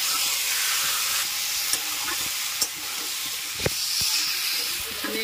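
Chicken pieces hit a hot spiced pan for a chicken curry, a steady bright sizzle and hiss with a few soft clunks and stirring scrapes, heard close and alone.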